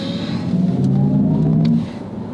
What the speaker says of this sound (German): Was sagst du so zu den Fahrgeräuschen hier drinne?